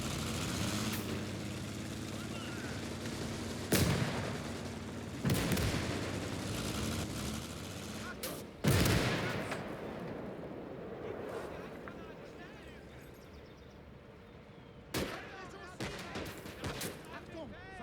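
Gunfire and artillery from the World War II strategy game Call to Arms: Gates of Hell: a steady rumble of battle broken by several loud, sharp blasts and shots, some close and some farther off, with a voice speaking over parts of it.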